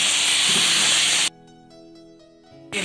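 Water poured into a pan of Bengali-style country chicken curry with masala makes a loud, close hiss that lasts just over a second, then drops off to a quiet background.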